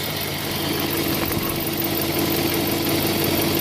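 A 2006 Chevy Tahoe LT engine runs after an oil pressure sensor replacement, idling smoothly and steadily at close range with a low even hum and faint mechanical whir, no voices over it.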